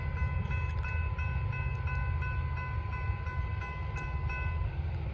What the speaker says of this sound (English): This might be the last train of the day right here